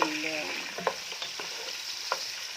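Diced sausage sizzles and fries in a pan, with a steady crackling hiss and a few sharp clicks of stirring, close and moderately quiet, no talk.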